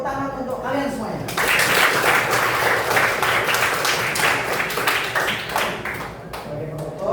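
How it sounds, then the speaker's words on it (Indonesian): A classroom group claps together in sustained, dense applause that swells after a brief spoken lead-in and carries on steadily, with voices mixed into the clapping. "tepuk tangan untuk kalian semuanya."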